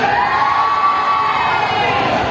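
A pageant audience at a Miss Gay costume contest cheers and shouts loudly and steadily, a dense wall of crowd noise with high-pitched whoops running throughout, near and continuous with no distinct speech.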